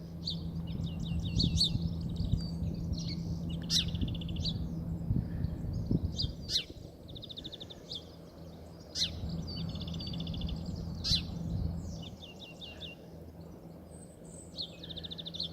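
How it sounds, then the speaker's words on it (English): Many small birds sing and chirp from dense bushes beside pink cherry blossom, a steady overlapping chorus of bright trills and tweets with a low steady hum beneath, no talking. "Oh, it's just beautiful, that bird song. Must be full of them in there, in those bushes."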